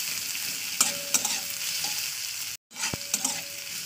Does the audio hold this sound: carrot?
yes